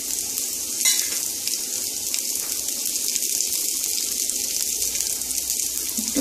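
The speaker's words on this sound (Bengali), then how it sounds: "একটু সামান্য ভেজে নেব, সঙ্গে লঙ্কা কুচোটা দিয়ে দিলাম" Chopped green chili frying in a pan for sago khichuri, a steady bright sizzle running throughout with light stirring scrapes, close and fairly loud, no talk.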